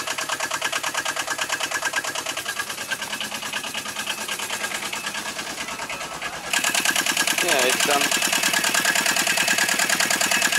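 A car's small, meaty belt-driven engine runs steadily close by on a road trip, its drone rising louder partway through, with a person talking over it.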